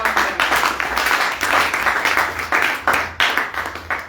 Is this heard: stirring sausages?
no